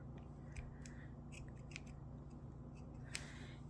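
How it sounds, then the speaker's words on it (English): Scissors snip yarn for a crochet bag project, giving a few quiet, crisp clicks and cuts spread over a few seconds, close and faint against a low background hum, with no talking. "we're going to cut a not very long, but long enough that we can use this end to sew it onto our project"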